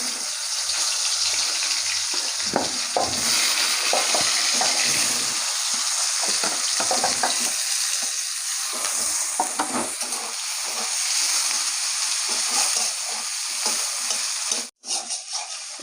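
Chopped onions fry with potatoes in a pan and are stirred for a Bengali chicken curry. A continuous sizzle runs throughout, broken by repeated scraping and clatter from the stirring, with no voices.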